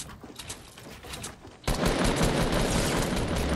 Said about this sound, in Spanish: Me está disparando otro.